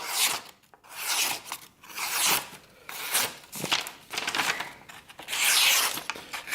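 A sharpened kitchen knife slices through paper in several rasping, tearing strokes, each a broad hiss of cutting that rises and fades in an uneven rhythm, close and fairly loud with no talking.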